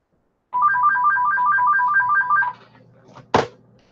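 A household telephone plays an electronic trilling ringtone close by. The rapid warbling pattern lasts about two seconds, then stops and is followed by a soft clunk.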